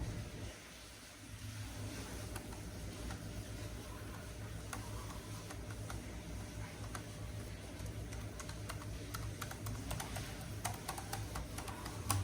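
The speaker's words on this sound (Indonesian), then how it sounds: "Kita tes keyboard dulu." Keys clatter steadily on a Lenovo ThinkPad T450 business laptop keyboard, close by, with quick irregular clicks over a low steady background hum and no talking.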